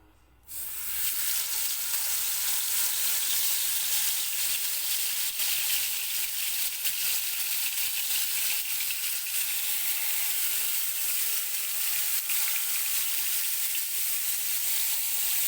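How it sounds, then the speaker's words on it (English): Fish frying in about four tablespoons of oil on a flat pan with masala, a steady loud sizzle that holds evenly from start to finish with no talking. "I'm going to fry using the flat pan."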